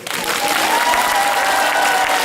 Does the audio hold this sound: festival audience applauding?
yes